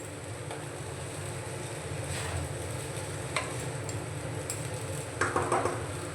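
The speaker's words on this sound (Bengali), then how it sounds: "গ্যাসের ফ্লেমটা লো টু মিডিয়ামে রেখে আমি হালকা হালকা করে এরকম নাড়তে থাকবো।" Sabudana is stirred slowly in ghee in a pan on a gas stove over low to medium flame, a soft steady sizzle under faint scraping, with a few light clinks of the spoon against the pan near the end.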